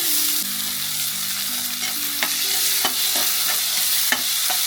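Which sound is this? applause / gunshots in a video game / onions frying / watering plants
onions frying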